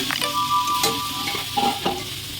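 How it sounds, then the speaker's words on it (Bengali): Chicken going into a pan of already-fried chili chicken spices, with loud, close sizzling and frying plus bursts of stirring and scraping throughout, no voices. "মশলা ভাজা হয়ে গেছে আমার চিলি চিকেনের মশলা। এখন চিকেনটা দিয়ে দিচ্ছি।"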